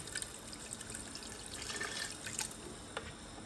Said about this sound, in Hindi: थोड़ा सा पानी और ऐड करूँगी